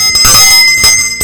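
A bell from a club's collection of bells from around the world rings loudly and briefly, struck about twice with a bright, sustained metallic tone.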